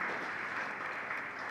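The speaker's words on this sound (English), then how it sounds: "I think that this deserves the applause" Audience at a research project discussion applauds in a steady, moderately quiet wash of clapping that holds evenly throughout.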